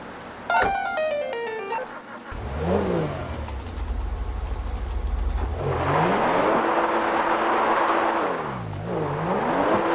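A car driven in the video game GTA 5 revs and accelerates, its engine pitch repeatedly climbing and falling through gear changes, loud and close. A brief synthetic chime opens the clip.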